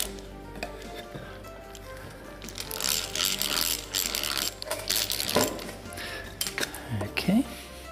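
A small hand drill bores a pilot hole and screws are driven into a wooden manual water pump, making close, uneven ratcheting clicks and whirring bursts with brief squeaks, under occasional speech.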